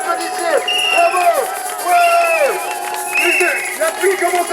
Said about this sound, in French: J'aimerais que vous vous applaudissiez.